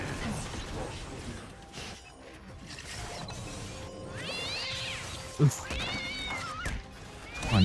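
Cat meows and caterwauling from a video game, several rising and falling mewls over game effects and background music, with a person talking briefly.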